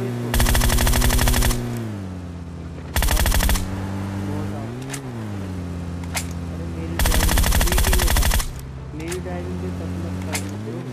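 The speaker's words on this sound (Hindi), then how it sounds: "तभी मुझे सामने से गोली चलने की आवाज आती है" Video game gunfire: bursts of rapid automatic fire in long volleys alternate with a droning engine hum, with a few isolated sharp shots between the bursts.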